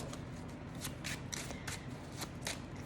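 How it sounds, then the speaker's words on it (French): Tarot cards being shuffled and drawn by hand, heard as a quiet series of crisp riffling flicks and slides repeating in short bursts, close up and without talk. "je prends 3 cartes du tarot"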